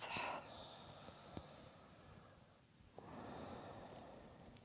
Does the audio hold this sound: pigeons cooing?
no